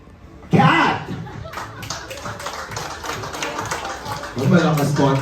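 Birthday party guests break into quick clapping to cast votes, a sharp burst at the start and another near the end, with laughter and talk in between.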